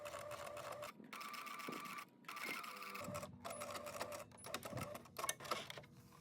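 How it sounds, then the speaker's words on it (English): Sewing machine topstitching a seam on a faux leather coatigan, a fast close mechanical whir with steady needle clatter, running in several bursts separated by short pauses. "I line up the inside of the sewing foot to the seam, then move the needle to the left by 1 from the center, and stitch."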